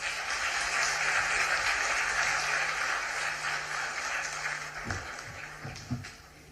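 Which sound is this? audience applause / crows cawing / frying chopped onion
audience applause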